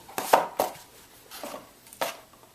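A knife or blade cuts through a cardboard box lid in four distinct crisp chops, close up, unevenly spaced and with no talking.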